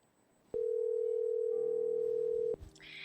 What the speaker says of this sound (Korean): 먼저 전화를 연결해 보겠습니다